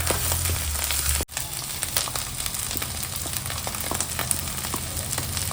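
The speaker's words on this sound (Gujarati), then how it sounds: "બટેટાને બેથી ત્રણ મિનિટ હલાવશું" Potatoes fry in a pan while being stirred, a continuous close sizzle with scattered crackles and a brief dip as something is moved, no voices over it.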